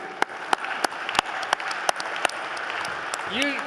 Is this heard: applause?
yes